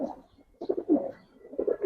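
Giribaz pigeons in a loft in Old Dhaka give soft, low cooing calls in two or three short bursts with brief pauses, moderately close and fairly quiet, with no talk over them.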